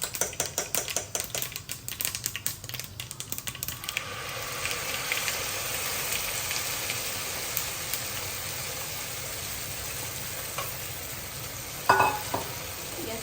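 Handvo batter sizzles in hot oil with sesame seeds and curry leaves, starting with sharp crackling spatters that settle into a steady, even frying hiss close up, with a brief clatter near the end.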